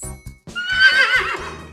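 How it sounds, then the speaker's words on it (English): A horse gives a loud, close neigh: one whinny of nearly two seconds that rises into a shrill, quavering peak and then trails off, with no other sound. "A horse makes a neigh sound."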